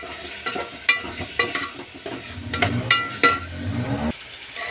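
Ivy gourd (tindora) curry sizzles in a frying pan while being stirred, with repeated metallic clinks and scrapes of a utensil against the pan over a steady close-up frying hiss.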